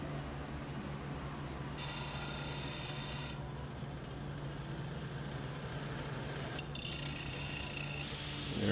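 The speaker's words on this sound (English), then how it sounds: "file down the edges and try and get it smooth." Hand file rasping along the edges of a knife blank cut from leaf spring steel, a steady scraping texture with bursts of brighter strokes, close and continuous with no talk.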